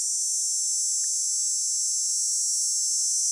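A cicada's steady, high-pitched whiny buzz drones without pause, even and loud throughout.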